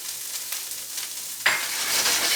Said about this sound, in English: And we're just going to saute that around a little bit